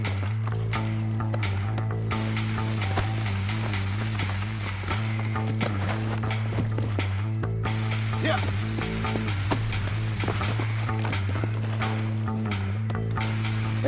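Horse hooves clip-clop in Red Dead Redemption, a steady trotting rhythm set against a loud, sustained game music drone with mechanical clicks throughout.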